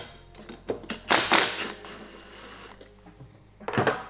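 Close metallic ratcheting clicks and short rattling bursts come from bolts being loosened on an ICEAGE big wheel kit, irregular, with quiet gaps between bursts.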